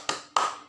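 Two crisp hand claps a quarter second apart, close and fairly loud, part of the Tepuk Yesus clap chant with a children's group.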